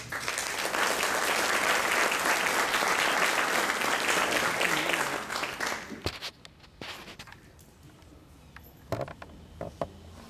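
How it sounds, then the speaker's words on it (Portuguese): An audience at a public policy event welcomes a speaker with loud, dense applause that holds for about five seconds, then dies away into scattered claps and room noise. "Queremos, então, portanto, recebê-lo com uma salva de palmas."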